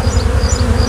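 Honey bees buzz steadily at a beehive, a close, continuous droning hum with a gently pulsing rhythm and no voices.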